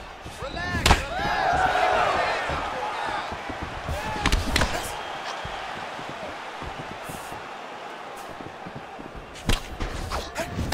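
Leg kicks landing in the UFC 4 video game during a Bruce Lee vs. Sharran Alexander bout: several sharp, loud thwacks scattered across the clip over steady arena crowd noise, with a commentator talking between hits.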